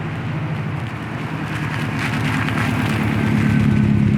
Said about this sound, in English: I hear another Subaru coming